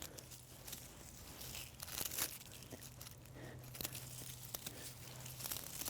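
Snipping and crunchy tearing as lemon balm herb plants are cut back in a fall garden, brisk crinkly rustles and snaps close by over a low steady hum, no talking.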